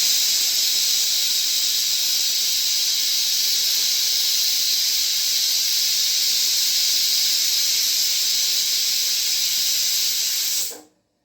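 A pressure cooker cooking kheema curry lets out a loud, continuous jet of steam as it whistles, holding steady for about ten seconds before cutting off abruptly into silence.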